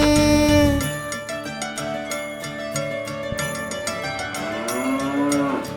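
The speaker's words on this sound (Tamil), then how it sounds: "பசுமாடு பசுமாடு என் பசுமாடு" A cow moos in one long, loud, drawn-out call that bends in pitch, set against a bright children's rhyme backing with light percussion and jingling.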